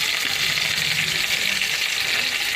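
Onion fries in hot oil in a heated nonstick pan, producing a steady, close, hissing sizzle that stays even throughout, with no one talking.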